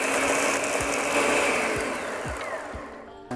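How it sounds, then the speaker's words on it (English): A kitchen blender crushes about 14 ounces of ice for margaritas, whirring loudly with a gritty, rattling grind before cutting off abruptly at the end. No one speaks over it. "we're just gonna pulse the blender a few times and get everything nice and smooth."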